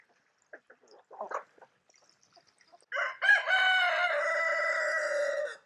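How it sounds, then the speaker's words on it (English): A few soft, scattered clucks from laying hens, then a rooster lets out a loud, drawn-out crow close by. "There's all the laying hens and Donald, the rooster."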